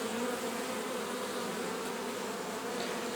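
Drone bees in their last days, shut out of the hive and hungry, buzz near the hive entrance in a steady, dense hum that holds evenly throughout, with no voices.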